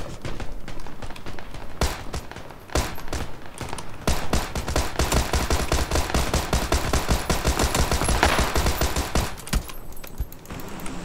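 Rapid, dense automatic gunfire from a PUBG-style battlegrounds video game, sustained loud bursts filling the whole stretch with almost no breaks.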